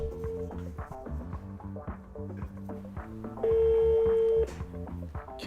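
Telephone dialing tones: a rapid run of short keypad beeps, followed by one longer steady tone, heard close and fairly clear over a faint background.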